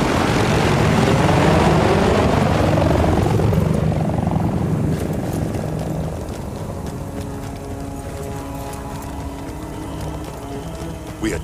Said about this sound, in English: Russian choppers, man, they shouldn't be.